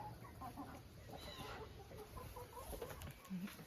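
Several chickens, about seven, cluck and murmur close by in a pen, with soft overlapping calls and a brief louder squawk, over a steady rustling farmyard background.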